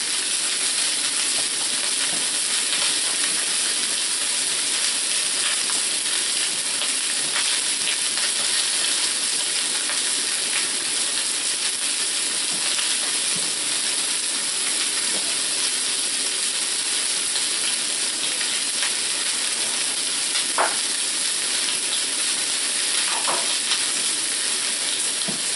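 Lamb chops sear in a hot pan with a loud, continuous sizzle and crackle, steady for the full stretch with occasional sharper pops and no voices.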